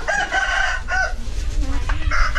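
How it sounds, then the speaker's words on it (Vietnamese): A fighting rooster crows loudly and close by, its call stretched across the clip, with a few clucks and some background noise. "Đây là cái loại gà của anh Bình"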